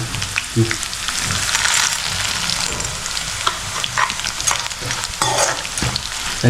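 Peanuts, mustard seeds, dry red chillies, curry leaves and garlic sizzle in hot oil as a tempering, crackling and popping steadily with bursts of spitting and the scrape of stirring.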